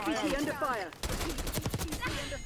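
Sniper rifle fire in the Black Ops 6 video game, with sharp shots and bursts of gunfire running through a busy, loud mix, a voice briefly audible near the start.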